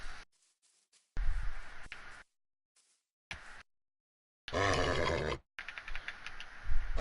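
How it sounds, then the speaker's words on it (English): A horse in the Minecraft video game whinnies in a few short, separated bursts, the longest a clear harmonic neigh, with silent gaps and faint game sounds between them. "the very first horse in the game"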